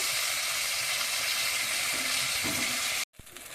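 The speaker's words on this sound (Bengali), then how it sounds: "বেগুন ভাজাটা বসিয়ে দিয়েছি, বেগুন ভাজাটা হচ্ছে" Eggplant slices sizzle steadily in oil in a pan, a loud, even, hissing fry that cuts off abruptly near the end.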